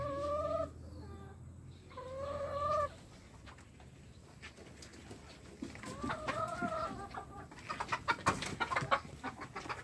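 Sonali chickens cluck and squawk nearby in short, repeated bursts on a poultry farm, with scratching and rustling around them.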